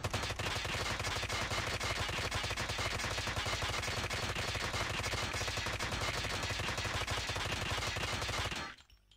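A Holger 26 converted into an SMG fires full auto in a video game, one unbroken rapid burst rattling loudly for about eight seconds before cutting off abruptly.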